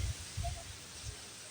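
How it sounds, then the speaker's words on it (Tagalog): Strong wind blows outdoors during rain, with a steady wet hiss and several deep gusts buffeting close by in short bursts. "lakas ng hangin"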